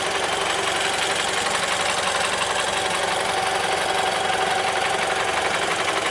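A BMW Z4 engine idles steadily up close, a continuous even rumble with a fine rapid ticking texture and no voices.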